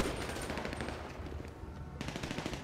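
Rapid automatic gunfire in the game GTA 5 with the LSPDFR police mod, a dense sustained burst of shots that keeps rattling throughout, loud and close with no pause.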